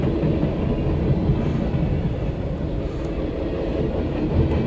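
CSX Q372-15 mixed freight train rolling past close by, a loud continuous rumble of railcars and wheels on track with no talk.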